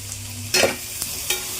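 Onions sautéing in a pan: a brief close scrape-and-sizzle burst of stirring over a low background hiss, followed by a fainter second stroke.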